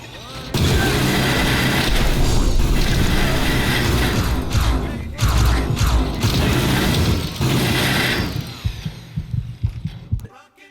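A minigun from a Fallout 4 mod fires in long, loud, continuous mechanical bursts, with a few short breaks before it spins down and trails off.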